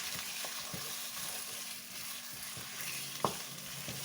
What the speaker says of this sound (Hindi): चिकन को अच्छी तरह से फ्राई करना है।